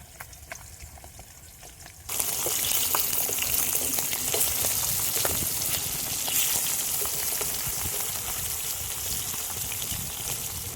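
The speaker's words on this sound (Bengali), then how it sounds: "এই মাছগুলোকে আমি দুবারে ভেজে নেব কারণ একসঙ্গে দিলে কড়াইয়ে ধরবে না" Phali fish dropped into hot oil in a kadai, the quiet pan suddenly bursting into loud, crackling sizzling that holds steady close by.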